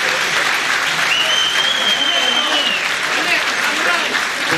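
An audience at a live music show applauds in sustained, dense clapping, loud and even throughout, with faint cheers and crowd noise mixed in.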